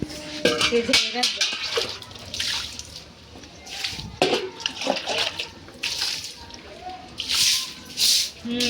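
Water thrown from a container splashes against a wall in hot weather, in a series of irregular wet slaps and drips with clattering knocks between them, close by.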